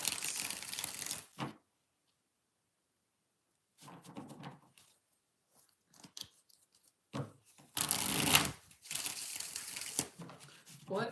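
Tarot cards being shuffled by hand make crisp, papery riffling and crinkling in several close bursts separated by quiet pauses.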